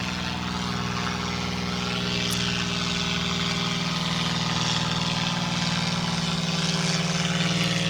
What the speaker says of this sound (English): The airplane flying over, so they're like doing laps with banners on the airplane.